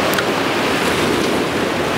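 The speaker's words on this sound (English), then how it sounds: "See a bunch of waves coming in, but they're not hitting me because he's, he's hitting these rocks first." Ocean waves break against coastal rocks in a continuous loud wash of surf, with wind buffeting close to the microphone the whole time.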